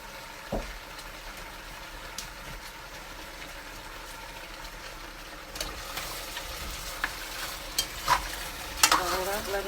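Brown stew of cow foot simmers in a pot with soy sauce and browning, a low steady bubbling hiss with scattered clinks, growing busier toward the end with louder spoon knocks against the pot.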